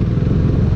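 A superbike engine roars loud and close during a Sunday group ride in Chhattisgarh, a steady low growl with a rapid throbbing pulse.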